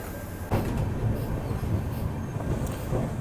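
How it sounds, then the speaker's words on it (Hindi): Railway carriages of the Shri Shakti AC Express rumble steadily as the train pulls out of Shri Mata Vaishno Devi Katra station after a chain pull, heard from inside with a faint wheel squeal in the background. "तो चेन पुलिंग के बाद फिर से ट्रेन अपनी निकल रही है अभी श्री माता वैष्णो देवी कटरा रेलवे स्टेशन से।"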